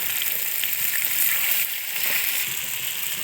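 Chicken frying in a pan, a steady dense sizzle close by with faint crackles, continuous throughout with no voices.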